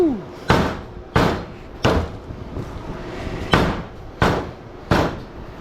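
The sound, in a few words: hammer striking while scrapping HID light ballast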